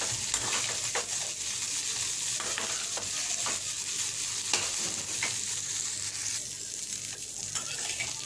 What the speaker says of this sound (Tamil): இதையும் நல்லா ஒரு வதக்கு வதக்கிட்டு நல்லா ஆற வச்சிடணும்